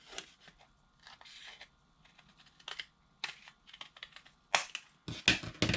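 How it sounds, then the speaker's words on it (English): Scissors snip paper in a series of short, crisp cuts at close range, irregular in rhythm and growing louder toward the end. "now I am going to use my scissors and just trim down."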